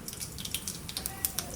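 Water splashes and drips while cashews and bitter gourd are rinsed, a quick run of close, irregular droplets and splashes.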